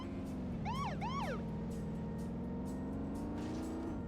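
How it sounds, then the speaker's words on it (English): A police siren in a Spider-Man video game gives two quick whooping yelps early on, heard over a steady engine-like hum that runs throughout. "You can hear the siren."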